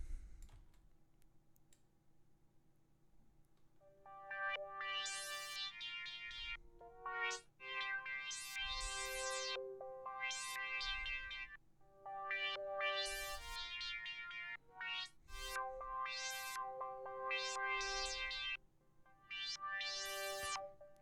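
The Odin freeware software synthesizer plays a melodic line of bright notes whose tone sweeps and shifts as an XY pad modulates the filter and its resonance, with quiet gaps between phrases.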